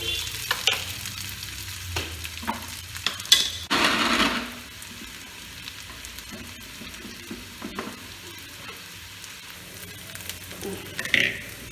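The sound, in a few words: onions frying in a pan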